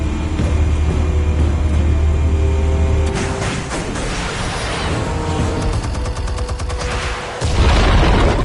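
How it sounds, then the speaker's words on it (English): Explosives detonating in a Batman film, heavy booming blasts and rumbling debris with mechanical clatter, loud and close, layered over a dense low roar with no talk. "Explosives armed. Fire when ready."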